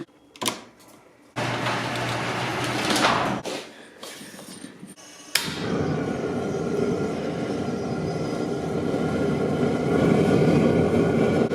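A garage door rattles and rolls down before slamming shut with a loud bang, followed by a steady roar of a heater running in a cold garage.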